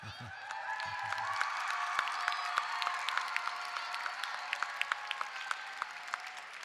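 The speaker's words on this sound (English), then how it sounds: "did somebody clap?" An audience at a mental-health awareness event breaks into sustained applause, a broad continuous patter of many hands with scattered sharper claps standing out, lasting the whole stretch at moderate loudness.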